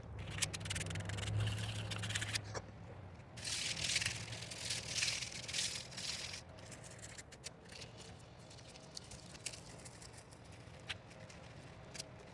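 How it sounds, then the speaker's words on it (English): Fine sandpaper, around 400 to 600 grit, rubs over a cork fighting butt for a fishing rod in quick, uneven scratchy strokes, close up and fairly quiet, with no speech. "final sand with some really fine sandpaper just to get everything nice and smooth"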